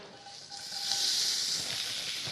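Onion sizzling in hot oil in a pan, a steady bright hiss that swells after a moment and holds, close and fairly quiet with no talk over it.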